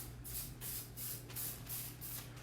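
Cooking spray is misted onto a baking pan for carrot cake in short, quiet hissing bursts, about six evenly spaced sprays in quick succession, close and alone.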